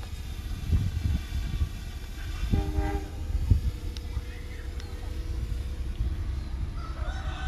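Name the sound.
train rumbling past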